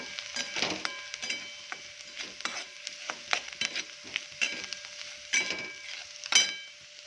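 Onion with turmeric, garam masala and red chilli powder being sautéed in oil, a light sizzle broken by frequent sharp clicks and scrapes of a spoon stirring the pan, with no talk.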